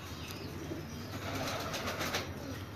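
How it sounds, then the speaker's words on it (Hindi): A female black-pearled pigeon coos softly outdoors amid a steady wash of background noise, with faint wing flutters and no talking. "ये काले मोतियों वाला कबूतर है जी।"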